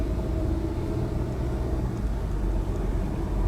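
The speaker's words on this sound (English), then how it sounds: "Very smooth and quiet engine." Audi Q3 compact luxury crossover SUV engine running smoothly and quietly, a steady low rumble that holds even and continuous throughout with no revving or voices.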